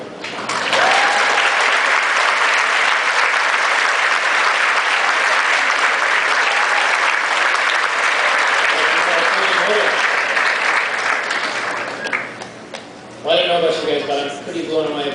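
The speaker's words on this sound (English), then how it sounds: "Let's give them another round of applause for excellent work." An audience at the Future Cities 2012 National Competition in Northern California applauds the competition teams with loud, sustained clapping for about twelve seconds, then it thins out and a voice speaks near the end.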